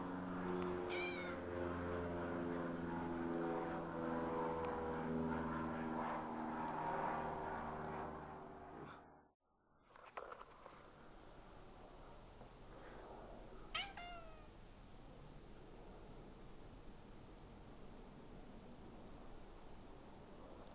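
A Sphynx cat gives a couple of short meows close by against a steady low engine-like drone, with a quiet stretch partway through.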